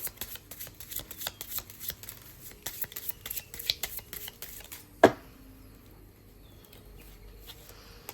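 A deck of oracle cards is shuffled close by in a quick, papery pattering rhythm, ending in one sharp slap of cards and a quiet pause.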